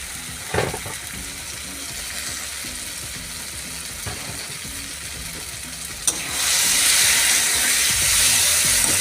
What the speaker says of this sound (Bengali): এখন আমি ভেজে রাখা আলুগুলো দিয়ে দেবো।